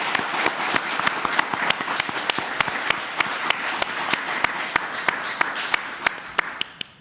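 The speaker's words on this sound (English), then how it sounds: "Let's celebrate this with another rousing round of applause." An audience claps at an MOU signing ceremony between USAID and Alcorn State University, a steady rattle of many hands with sharp individual claps standing out, fading toward the end.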